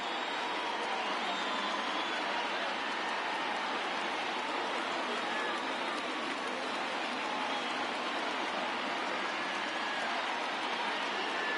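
A baseball stadium crowd of over 38,000 cheers in MLB The Show 20, a dense, steady roar of noise that holds at one level throughout.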